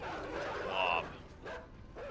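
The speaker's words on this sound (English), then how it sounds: "That's why the dogs are here." Dogs in the video game Inside bark and yip in short bursts, fairly faint and distant, beneath someone talking throughout.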